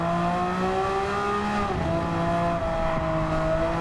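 A Subaru WRX Gr.B four-wheel-drive car racing in the rain in Gran Turismo 7, its engine droning steadily with smooth pitch shifts as it holds speed and shifts gears, loud and close with no talking.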